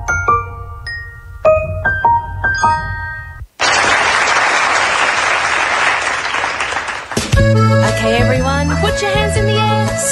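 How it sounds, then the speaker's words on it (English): An audience claps for three-year-old children who have just performed on stage at the Taman Merak kindergarten, a dense, steady burst of applause lasting a few seconds, after a run of bright chiming notes and before music starts up. "So please give them a round of applause."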